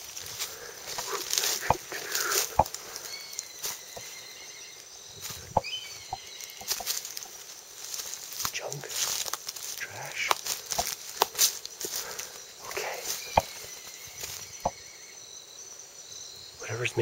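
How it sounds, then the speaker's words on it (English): An unidentified bird gives short chirping calls by a highway in Japan, mixed into a constant insect chorus with scattered footsteps and someone talking. "Bird of some sort, I suspect."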